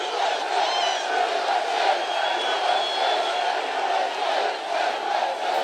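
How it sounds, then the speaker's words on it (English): A large outdoor political rally crowd in Coachella, California cheers and shouts in a steady, dense roar that holds loud and continuous throughout, with scattered whoops rising above the mass of voices. "This is a rather nice crowd."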